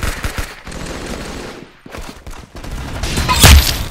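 Gunfire in rapid bursts, a fusillade of shots that swells and fades, with a loud cluster near the end; loud and dense, no clear talk.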